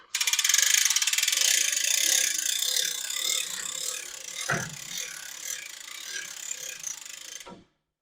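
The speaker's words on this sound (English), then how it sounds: "And now we're going to go ahead and lift this hood." A Lift King heavy-duty lift mechanism raises a semi truck hood with a loud, continuous mechanical ratcheting clatter that fades slightly, broken by a single knock midway and ending abruptly.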